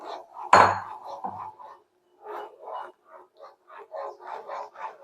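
A spatula scrapes and stirs gram flour laddu mix in a small kadai: one loud clattering knock early on, then a steady run of short, soft scraping strokes close by, with no voices.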